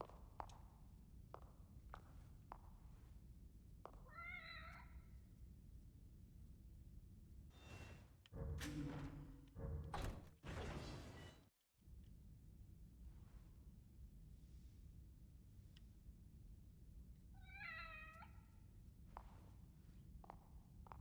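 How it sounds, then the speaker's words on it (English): A cat meows twice within a dark horror video game, short rising calls spaced far apart over quiet ambient noise and soft footsteps, with a louder burst of game sound in the middle. "it's the cat"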